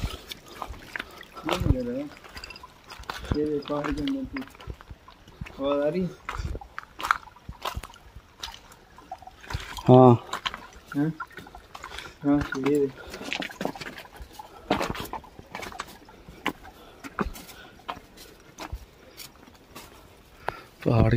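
Water gurgles and trickles steadily at a lake in Essa Khel, Mianwali, while someone talks over it, with occasional louder splashy bursts.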